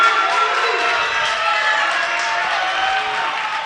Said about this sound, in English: crowd is trying to get these girls energized